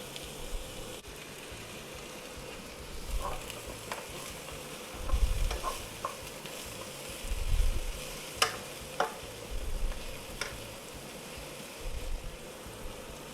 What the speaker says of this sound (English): we're going to add the onions, and we're going to sizzle those